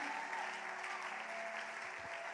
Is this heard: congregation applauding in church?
yes